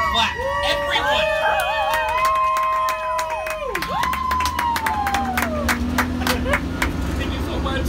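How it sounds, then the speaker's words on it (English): A lively tour crowd at Universal Studios Hollywood cheers and shouts with clapping mixed in, voices rising and falling in a busy, loud din throughout. "Everyone clap."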